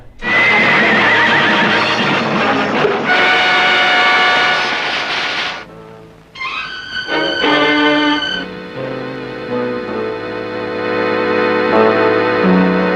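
A horse neighs loudly at the front of a horse-drawn carriage in a 1979 Hindi horror film, the long whinny followed by a dramatic tonal music score that swells under and after it.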